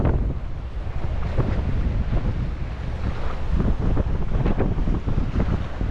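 Rough sea waves churn and wash continuously in Manila Bay while strong wind buffets the microphone, a steady loud roar with surging bursts and no voices.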